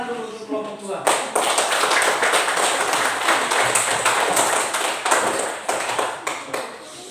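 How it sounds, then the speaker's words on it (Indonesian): Classmates clap for a group in a school classroom, a dense, steady round of many hands clapping for about six seconds, fairly close and loud, following a brief spoken line from a teacher. "mari kita berikan tepuk tangan dulu untuk kelompok 2."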